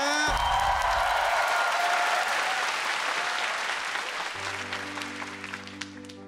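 A studio audience applauds after a soulful stage performance of a song on a Korean singing show, loud dense clapping with some whoops that slowly fades, while a low sustained piano-like tone enters near the end.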